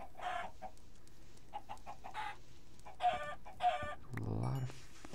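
Chickens in a survival video game cluck and squawk close by in short, irregular bursts, with a louder rustling flurry near the end.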